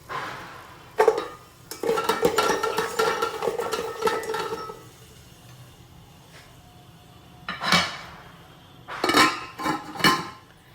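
Cashews, ginger and green and red chillies sautéed in a rice cooker pot, heard as bursts of metallic scraping and clinking of a utensil against the pot, then quieter gaps and a few final louder clatters.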